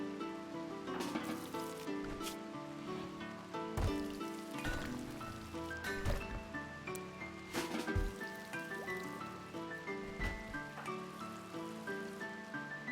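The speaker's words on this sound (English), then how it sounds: "Oh, foggy rain. This is the wrong weather to try to fight a Lindworm." Foggy rain weather in the video game RimWorld, a steady patter of rainfall with scattered sharper drops, mixed under continuous game music.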